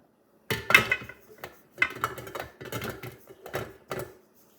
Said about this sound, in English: Now I'm just going to scrape the sides with my spatula